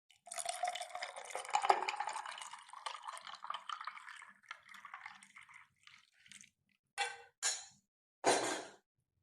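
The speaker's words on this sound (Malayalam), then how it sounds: "ശേഷം നമ്മൾ അടിച്ചു വെച്ച ജ്യൂസ് ഇതിലേക്ക് ഒഴിക്കാം" Blended cucumber juice is poured into a glass that already holds a piece of green chili. A steady liquid splash runs for about six seconds, followed by three short, separate bursts of pouring, with no voices.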